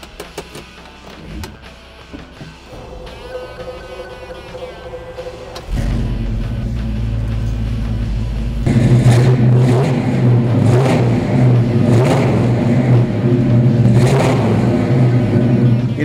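A 1967 Chevrolet Chevelle SS 396 cranks briefly, its big V8 catches and settles into a loud, rumbling idle, then is revved up in several bursts close by.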